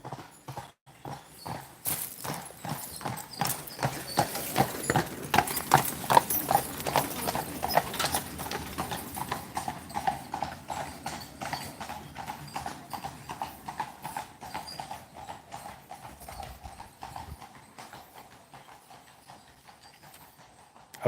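Horses on Mackinac Island clip-clop past on a wooded route, the hoofbeats swelling loud and close with rhythmic, overlapping strikes, then gradually fading as they move off.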